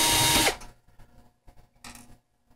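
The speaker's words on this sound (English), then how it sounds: "I can use this electric screwdriver for this" An electric screwdriver drives screws into an APC UPS case, a short close whir stopping abruptly, followed by faint clicks and a second brief burst.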